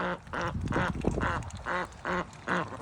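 Backyard homestead ducks quack on a wet, rainy day, giving about seven rhythmic bursts of loud, nasal, close-up calls at an even pace with short gaps between them.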